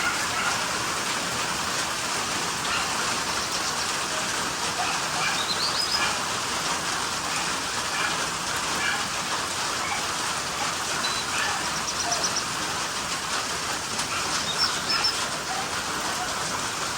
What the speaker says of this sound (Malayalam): അപ്പോൾ അവരൊന്നും മഴ കണ്ടോട്ടെ ശരിക്കും.